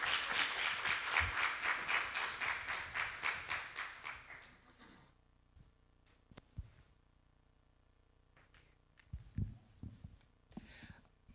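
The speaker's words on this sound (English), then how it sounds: "A round of applause for her." Audience applause at an industrial summit and expo, a full burst of clapping from a seated crowd that fades out after about four seconds, followed by a quiet room with a few scattered thumps and small noises.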